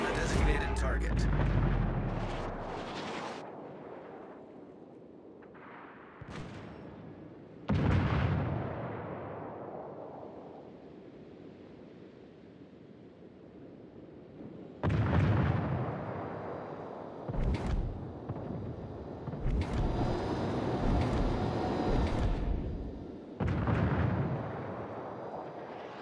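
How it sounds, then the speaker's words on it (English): Artillery shells strike a designated target in what sounds like a video game: several heavy booming explosions spaced seconds apart, each with a long rumbling decay, mixed with gunfire and brief voices. "All stations, requesting fire on the designated target."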